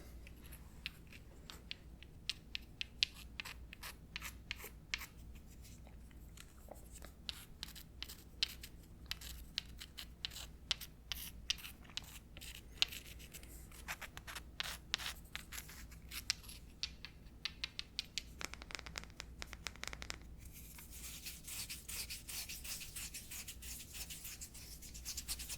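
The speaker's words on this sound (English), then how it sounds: "You can even rub them together and see what sound they make." Smooth stones rubbed together close up in a quiet room, a soft scratchy grinding with many small rapid strokes and scrapes, faint and continuous throughout.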